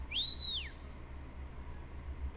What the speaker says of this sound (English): the other delinquent in track pants made a loud whistle